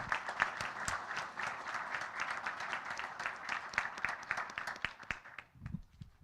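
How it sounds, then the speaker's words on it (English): A room full of people applauds students at a school board meeting, steady dense clapping at moderate distance that carries on evenly before tapering off near the end. "One more round of applause for all of our students."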